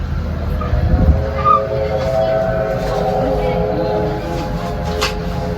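Steam locomotive in a railway museum's open workshops, heard as a steady low mechanical hiss and rumble with sustained tonal hums, under a nearby voice speaking.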